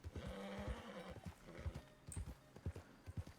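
In the Red Dead (RedM) game, a horse gives a whinnying neigh over clopping hooves, then its hooves keep up an irregular clip-clop at a moderate distance.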